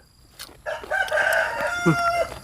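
A rooster crows once, a loud drawn-out call rising and holding before trailing off, close by and alone.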